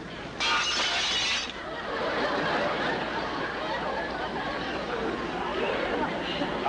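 Glass smashes in a vintage radio comedy sound effect, a loud bright crash and tinkle at the start, then chatter and laughter from a studio audience and voices follow.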